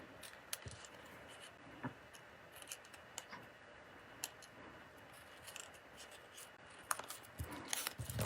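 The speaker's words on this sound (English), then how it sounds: "I think I'm going to cut this too" Scissors snipping paper for handmade tent cards, a quiet close series of short cuts scattered across the stretch with soft rustling of paper between them.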